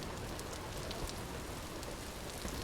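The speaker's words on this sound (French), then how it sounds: "il est en train littéralement de pleuvoir" Steady rain pours down in the survival game Vintage Story, a dense, even hiss of drops falling on surfaces close by, unbroken for the whole stretch with no voices.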